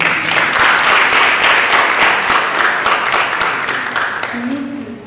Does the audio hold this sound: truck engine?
no